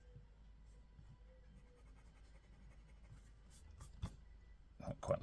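Jinhao x350 fountain pen with a medium steel nib writing wet on paper, a soft continuous scratchy glide with a few firmer strokes toward the end, close and quiet.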